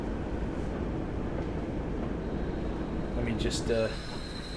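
A train running in the Train Sim World video game gives a steady broadband rumble and rolling noise throughout, with a brief higher tone near the end and someone speaking briefly over it.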